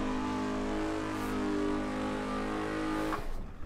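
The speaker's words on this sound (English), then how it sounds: "So we're just gonna heat up our tires just a smidge because tire wear and everything is on." A race car engine revving hard while heating up its tires, a loud sustained high-pitched drone that holds steady, then drops away with a brief sharp squeal near the end.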